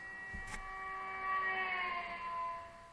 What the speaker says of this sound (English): The archetypical example of this is the sound of a race car driving past you.